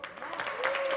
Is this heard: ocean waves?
no